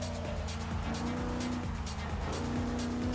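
A 1963 Volkswagen Type 2 De Luxe in a racing video game brakes hard for a corner, its engine drone sliding downward while tires scrub and hiss, loud and continuous throughout.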